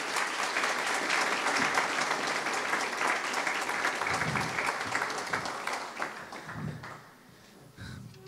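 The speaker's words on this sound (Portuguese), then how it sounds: "Uma salva de palmas para o professor Carlos." A hall audience claps at a university philosophy debate event as a professor is welcomed, dense sustained applause for most of the stretch that thins and fades toward the end, with a few scattered claps.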